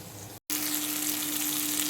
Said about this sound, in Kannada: ಫಿಶ್ ಫ್ರೈ ಆಗ್ತಾ ಇದೆ